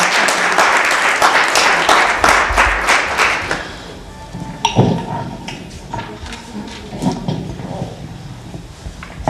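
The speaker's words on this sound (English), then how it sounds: "Mr. Alberg, please give him a round of applause." Applause from an audience at a board of education meeting: dense, loud clapping for about four seconds that thins into scattered claps and room noise.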